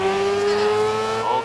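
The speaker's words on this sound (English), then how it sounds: "city of Zhejiang is buzzing with the sound of motorsport" Race car engines from the GRiD 2019 racing game, a loud, steady high-revving drone with sustained tonal whine from several cars, constant and close throughout.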